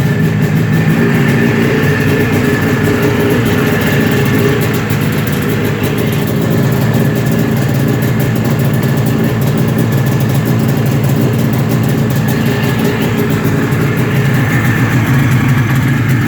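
A 1997 Ski-Doo Formula S 380 snowmobile engine idles steadily and close by, a continuous loud rumble with a faint rapid pulse and no pauses throughout.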